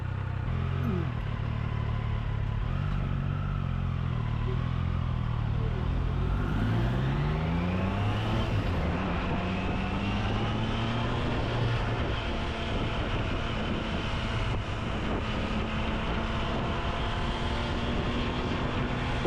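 Triumph Daytona 660 three-cylinder sport motorcycle pulling hard in sport mode, the engine note climbing in pitch through several rising sweeps as it runs up through the gears, loud and close with wind rush, with no talking.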